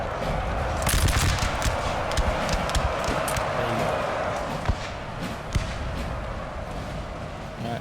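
Musket volleys and scattered gunfire crackle through a Napoleonic battle in Napoleon Total War, with repeated sharp reports over a dense, continuous battle din at close to mid distance.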